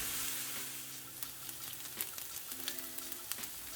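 Two finely chopped onions fry in vegetable oil until golden, giving a steady, fairly quiet sizzle with small crackles and pops throughout, no talking.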